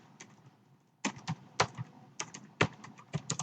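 Someone types on a computer keyboard in short irregular bursts of crisp, close key clicks, with quiet pauses between them.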